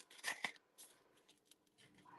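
Two quick, sharp scissor snips cut through paper up close, followed by quieter rustling and small handling noises.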